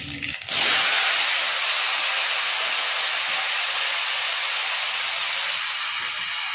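Hot oil in a home kitchen bursts into a loud, steady hiss as chopped mango, panch phoron five-spice mix and black mustard seeds go in for mango chutney, the sizzle holding close and strong throughout.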